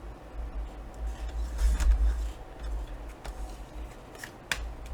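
Card stock, 5x7 cards and paper tags are trimmed to about 5.5 inches, giving a series of close, irregular cutting clicks and sliding scrapes over a low background hum, with no talking.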